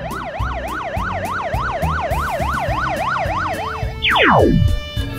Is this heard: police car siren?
yes